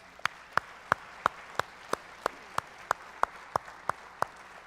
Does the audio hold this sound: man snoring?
no